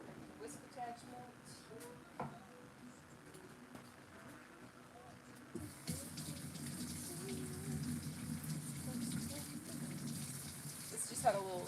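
Kitchen tap water starts running partway through and keeps flowing as a bowl is rinsed, a steady close hiss with occasional clinks, while someone talks over it.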